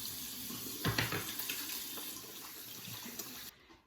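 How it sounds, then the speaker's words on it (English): A tap runs steadily into a sink as hands are rinsed beneath it, a close, continuous splashing hiss that stops sharply near the end. "Rinse my hands off."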